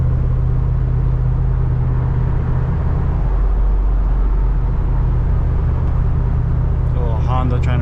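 A Hemi-swapped Jeep engine roars loudly and steadily from inside the moving vehicle, with a deep continuous rumble and road drone throughout, and a brief higher whine near the end.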